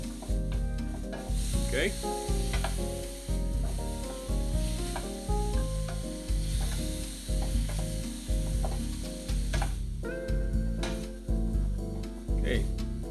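Finely minced garlic sizzling loudly in a pan, a steady close crackle broken by regular scraping stirs, with a person speaking briefly over it.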